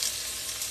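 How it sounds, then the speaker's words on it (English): Onion and spinach sizzle steadily in a hot pan, a continuous close, even frying hiss with no break and no voices. "if it sizzles, it's ready to go"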